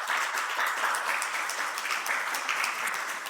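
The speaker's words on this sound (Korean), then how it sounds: "우리 박수로 환영하시겠습니다" A church congregation at Sunday worship applauds to welcome newly registered members, giving a brief, steady burst of many hands clapping together at moderate volume. No voices are heard over the applause.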